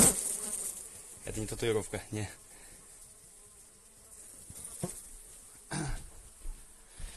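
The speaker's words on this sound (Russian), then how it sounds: "Ого, сколько мух." Flies buzz in the background while a person talks and clears their throat, with the insect drone filling the pauses between short phrases.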